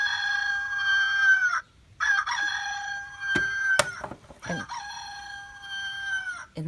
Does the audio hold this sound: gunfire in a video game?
no